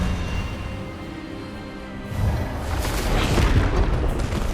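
Expelliarmus spell blast in the Hogwarts Legacy video game: a sudden deep booming burst erupts partway through, swelling into a loud, broad rumbling roar that lingers to the end over low ambient game sound.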